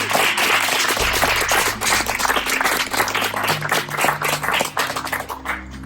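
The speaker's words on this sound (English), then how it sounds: "Please give another round of applause to Mike, Dory, and the production crew." A crowd applauds steadily through the whole stretch at the close of a Survivor fan-made season finale, dense clapping that thins a little toward the end, with no voices over it.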